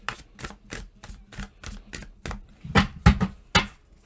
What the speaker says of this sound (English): Do a couple more shuffles and then I'll just pull from the deck.